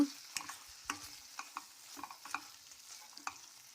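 A spoon scrapes and knocks in a pan of vangi bath gojju with coriander leaves over low heat, making a few soft, irregular stirring taps and clicks over a faint sizzle, quiet and close.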